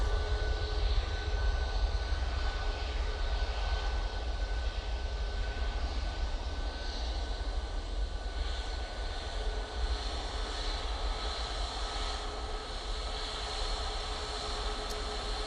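An airliner departs Manchester Airport bound for Madrid, its engines producing a continuous, fairly distant rumbling roar with a faint high whine that holds steady throughout, with no voices.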